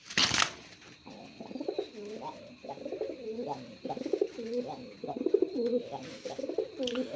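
A male domestic pigeon coos excitedly at a female, rapid rising-and-falling throaty calls repeating in a steady rhythm close by, after a brief rustle at the start.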